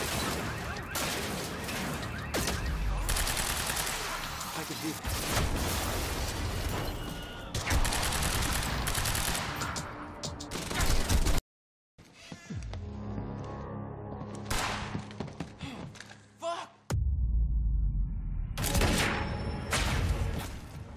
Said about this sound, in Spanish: todas esas balas las recibe el enemigo de golpe